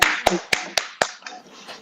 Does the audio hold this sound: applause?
yes